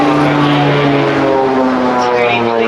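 An OV-10 Bronco twin-propeller aircraft passes high overhead at a coastal air display, a loud continuous droning propeller buzz with steady harmonic tones and a slight shifting pitch.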